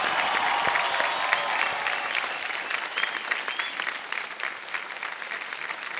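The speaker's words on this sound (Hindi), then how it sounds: "तालियां बज जाएं" Studio audience applause on the KBC India game show, a dense burst of many hands clapping that is loud at first and gradually thins and softens, with no speech on top.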